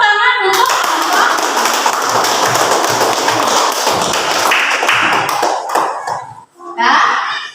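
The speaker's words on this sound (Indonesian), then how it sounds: "Ya, tepuk tangan untuk kelompok." Children in a classroom clap together for a group after its presentation, a dense stretch of many hands tapping that breaks off briefly near the end before a final short burst.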